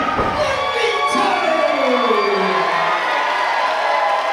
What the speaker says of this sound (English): do you hear those women in the crowd exclaiming for Junior?